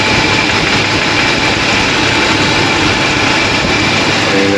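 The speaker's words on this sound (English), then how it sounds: "Lifter noise is not going to disappear straight away." A Holden VL engine idles just after an oil change, a steady, loud drone with a faint ticking from the lifters running through it, close up and unbroken, with no voices.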